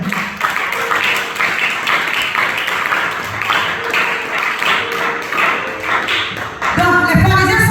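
A church congregation applauding in praise, a steady patter of many hands clapping with rhythmic swells, fairly close and loud, with a brighter burst near the end.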